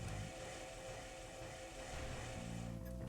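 Helicopters fly in the Armored Core video game, a steady rotor and engine drone held at an even level through the whole moment, with no talk over it.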